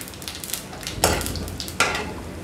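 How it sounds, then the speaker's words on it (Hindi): Cumin seeds sizzle in hot oil while cooking restaurant-style palak paneer, a steady frying crackle with two sharp bursts as more seeds hit the pan, close and fairly loud, with no talking. "अब मेरा ऑयल बहुत अच्छे से गर्म हो गया है। अब हम इसमें सबसे"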